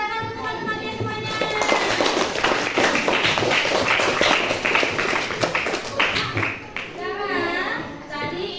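Schoolchildren in an Indonesian classroom applaud their classmates with a burst of close, dense clapping lasting several seconds, under and around children's voices and a teacher speaking.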